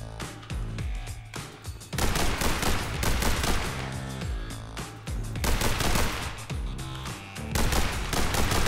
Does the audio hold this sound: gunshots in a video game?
yes